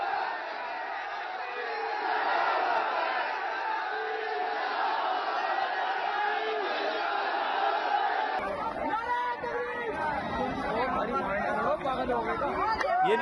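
A huge crowd of protesters in Saharanpur shouts and chants en masse. The loud, churning roar of voices carries on unbroken, then the texture shifts abruptly to closer, more distinct yelling.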